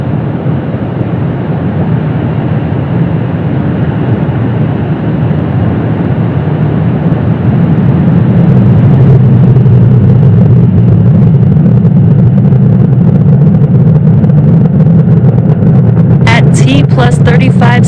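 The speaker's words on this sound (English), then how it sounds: "Falcon 9 has successfully lifted off from Space Launch Complex 40 from Cape Canaveral, Florida" A SpaceX Falcon 9 rocket lifting off from Space Launch Complex 40 at Cape Canaveral, Florida, on a Starlink mission, a loud continuous low rumbling roar that holds steady and swells slightly, with a voice briefly heard near the end.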